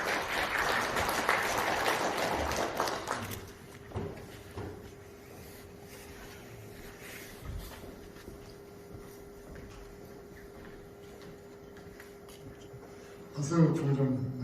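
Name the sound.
seminar audience applause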